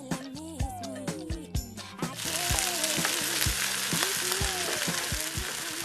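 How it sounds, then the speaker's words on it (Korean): Pork belly, aged kimchi and stir-fried ssamjang sizzle loudly in a hot pan, a dense steady frying hiss punctuated by sharp clinks of a utensil against the pan. "마지막으로 볶음 쌈장을 넣고 지글지글 볶아주는데요."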